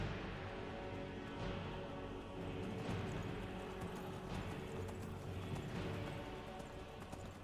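Steady galloping hoofbeats of a horse in the video game Skyrim, moderately faint, running continuously over a droning musical background.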